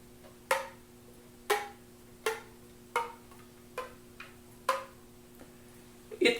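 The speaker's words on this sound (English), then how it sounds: "If you write key clicks for a high register, it will sound something like this." Percussive key clicks on a flute played in its high register: seven or eight dry, separate taps spaced roughly a second apart, close but fairly quiet and thin in resonance, with no speech.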